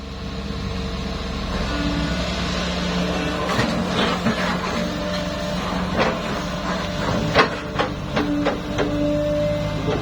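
A Kobelco SK140-8 Super XM excavator digs wet sandy soil and loads a truck, with a steady engine drone throughout and sharp metallic clanks and bucket knocks between about 3.5 and 9 seconds, loud and close, with no talk.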